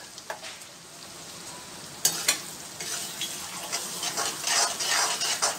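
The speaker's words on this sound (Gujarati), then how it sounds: "વટાણાને આપણે આવી રીતે તેલમાં થોડા સાતરી લઈશું." Boiled peas tossed in hot oil in a pan give a quiet, steady sizzle broken by sharp spatula clinks and scraping stirs that grow busier toward the end, heard close with no talk.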